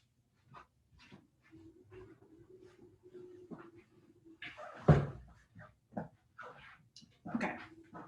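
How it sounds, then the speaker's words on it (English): A chair is shifted around indoors, giving scattered scrapes and knocks with one loud thump near the middle, fairly close, against a quiet room with no talk. "So moving my chair."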